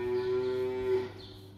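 A cow in a dairy barn bedded with cow mattresses gives a single sustained moo lasting about a second, clear and fairly close against a quiet background.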